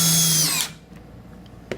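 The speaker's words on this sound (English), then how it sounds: "How about we just use my regular drill first of all, so you can see, you know, you don't have to have an impact driver to sink these things." A regular cordless drill whines briefly at high speed as it sinks a WoodPro screw into a 2x4, then cuts off, followed by faint clicks and handling noise.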